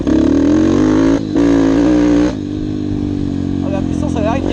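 An enduro motorcycle pulls hard with a steady buzzing engine note that climbs through the gears, with two short breaks where the rider shifts, up close. Someone talks over the engine, and the tone drops away toward the end.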